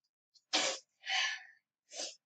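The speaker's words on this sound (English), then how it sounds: "Sorry, I sneezed." A person sneezes three times in quick succession, each burst sharp, breathy and close, with brief silent gaps between, and no talking around them.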